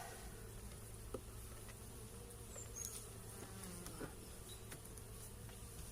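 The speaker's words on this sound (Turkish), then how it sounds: "Yani bu arılar burada, bu takım arı. Kestaneye çalışıyorlar." Honey bees working chestnut blossom at an apiary, a steady close buzzing hum with individual bees droning past now and then, continuous throughout with no voices.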